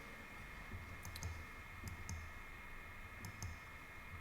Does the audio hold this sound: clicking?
yes